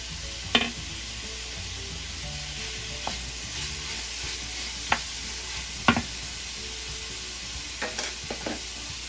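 A California-style vegetable mixture sizzles in a pan as it is stirred, a steady close hiss with a few sharp utensil clicks and knocks against the pan.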